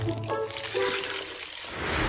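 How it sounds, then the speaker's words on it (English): Water poured onto a craft board during cleaning, a steady liquid pour and splash that swells after a brief lead-in, close and fairly loud with no talk over it. "Here's some water to make cleaning the board easier!"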